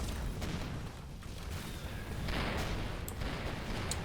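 Weapon barrage in the space game Avorion: a dense, continuous rumble of overlapping shots and booms, steady and loud throughout, with a brighter burst of fire partway through and faint sharp pings near the end.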